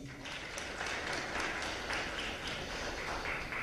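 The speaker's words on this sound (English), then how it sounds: "Another round of applause, please." Audience applause at a memorial conference honoring the late former president Mkapa, a dense, steady wash of many hands clapping throughout at even loudness, with no voices over it.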